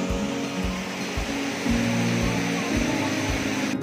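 Water rushes steadily at Dinaugan/Kadaugan Falls in a constant broadband roar, close and even, with faint low thumps underneath and no clear speech.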